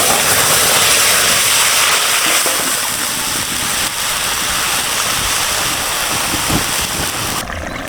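A loud, continuous hiss and crackle of curry hitting a hot pan tempered with whole cumin, a dense sizzle that stays steady and eases slightly toward the end, alone without speech.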